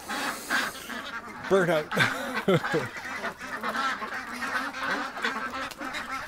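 Backyard ducks quacking loudly close by, a quick burst of honking calls early on, with a person talking over them and more faint calls behind.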